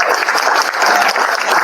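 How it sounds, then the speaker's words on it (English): Loud, dense applause from a crowd, steady clapping that fills the space without pause. "Round of applause for this man."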